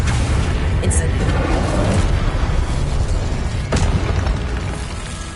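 Booming spell blasts and bursts cast in the Hogwarts Legacy video game, loud and continuous with repeated pops and explosions layered over game audio, a sharp burst near the start and another toward the end.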